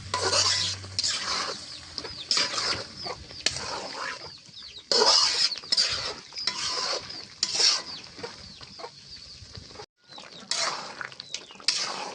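Duck meat being stirred with spices in a pot on a clay stove, giving irregular scraping and metallic clinks in bursts with quiet gaps and faint background clucking.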